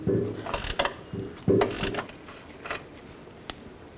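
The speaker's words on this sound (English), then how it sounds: "Then an 18mm wrench on the other side, and loosen it up." A ratchet wrench works on a bolt on the rear suspension of a 2004-08 Nissan Maxima during a coil spring replacement, giving a few close, quiet bursts of clicking with short pauses between them.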